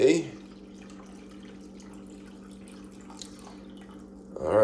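Hot coffee poured from a coffee maker into a container makes a steady liquid stream with a low continuous tone, running for several seconds and framed by brief louder noises at the start and end.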